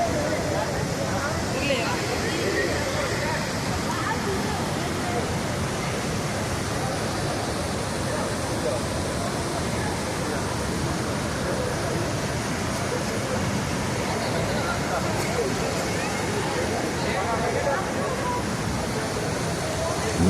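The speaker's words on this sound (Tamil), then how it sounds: "பாருங்கள் எவ்வளோ தண்ணி போகுதுங்க." Heavy water from Athirappilly waterfall roars in a steady, dense broadband rush that stays loud and even throughout, with no breaks or clear voices over it.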